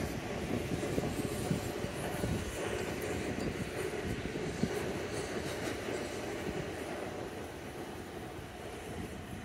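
An M9 train bound for Grand Central passes on a March day, heard as a steady, fairly distant rumble and rattle of rolling wheels that holds evenly throughout.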